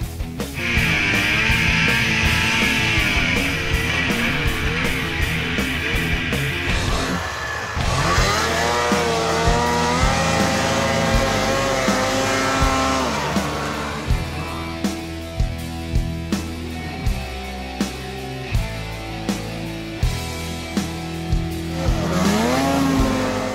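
A Ski-Doo Freeride 154 2017 snowmobile engine whines and roars while riding, pitch rising and falling as it accelerates and eases off, loud and close.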